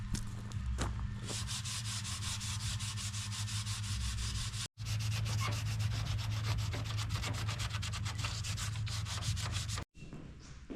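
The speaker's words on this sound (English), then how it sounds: "we tried to sand it as best we could, some of the plastic weld, and just scuff everything up" Continuous close scraping of 320 grit sandpaper scuffed over a plastic car dashboard during a DIY dash repair, a steady rubbing rasp with two brief pauses.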